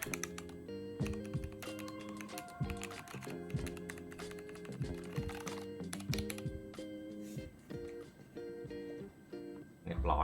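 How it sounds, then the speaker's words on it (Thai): Keys on a CARNIVAL X LOGA mechanical keyboard clatter in fast, uneven bursts of typing, crisp and close, with a brief louder thump near the end. "ถึงเวลาฟังเสียงของคีย์บอร์ดนะครับ"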